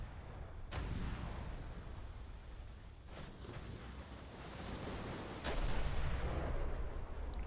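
A full broadside of naval turret gunfire in ShipCrafter, with heavy booming blasts at the start and again near the end over a continuous low rumble of battle noise, fairly distant and muffled.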